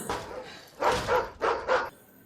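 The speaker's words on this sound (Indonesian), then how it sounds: "tiba-tiba terdengar gonggongan Indy yang membuatnya bergegas masuk" A dog barks in short bursts, one early, faint yelp followed by four louder, close barks grouped in two pairs, with no voices present.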